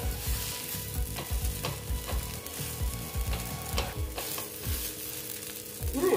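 Vegetable paratha fries in a pan with a soft, steady sizzle, punctuated by repeated low thumps and scrapes as the flatbread is pressed and moved, close and moderately quiet, no voices present.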